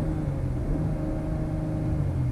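A 2019 Chrysler Pacifica minivan's 3.6-litre Pentastar V6 running up in revs, a smooth continuous engine drone with a low steady hum, heard close and fairly loud without speech.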